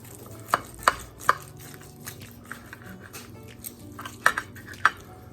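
Italian meatloaf is cut and served from the pan, giving several sharp knife and utensil knocks in uneven clusters against a quiet kitchen background, close and moderately loud with no talk.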